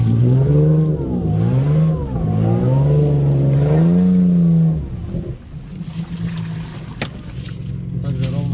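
An off-road car engine revs while driving forward on a straight line near the Desna river, rising and falling in loud surging pitch sweeps before settling into a rougher, noisier drone.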